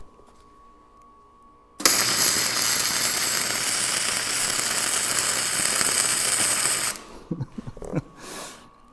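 A flux core MIG welder lays a bead on electrode positive, giving a loud, steady crackling hiss for about five seconds before cutting off, followed by a few faint clanks.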